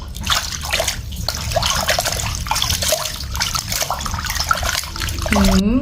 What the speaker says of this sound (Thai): พอทำเสร็จแล้วเราก็ล้างน้ำให้สะอาดสักสองสามน้ำนะครับ